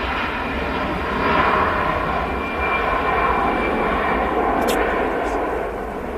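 An airplane at Manchester Airport roars past with a loud, steady engine rush that swells slightly and holds throughout, while people talk over it.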